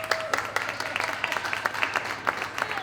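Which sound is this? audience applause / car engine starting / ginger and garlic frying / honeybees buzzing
audience applause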